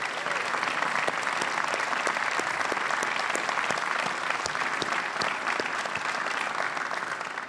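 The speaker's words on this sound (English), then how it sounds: "How about a round of applause for everyone who made this possible?" Sustained, even applause from a commencement audience, a dense crowd of hands clapping continuously for over seven seconds with no talk over it.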